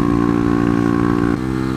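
A 125cc motorcycle engine runs hard and close at high revs, steady for most of the stretch before the pitch drops suddenly as it shifts gear and carries on droning.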